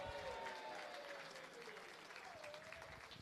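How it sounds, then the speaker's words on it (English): A crowd at the WDF Lakeside World Darts Championships applauds a departing player, a steady, distant-sounding wash of clapping, quite faint, with a voice partly audible over it. "a massive round of applause for Marko Kantele"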